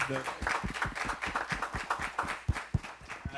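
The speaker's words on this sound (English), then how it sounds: "maybe we could just do a round of applause first for for the partners" Conference audience at a cultural diplomacy and security event gives a round of applause for partners, a dense patter of many hands with some sharper individual claps standing out, steady and fairly near throughout.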